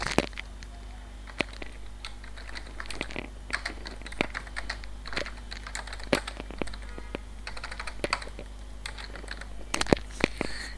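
Keys clack on a computer keyboard as details are typed into a form, an irregular stream of sharp, close taps over a faint steady hum.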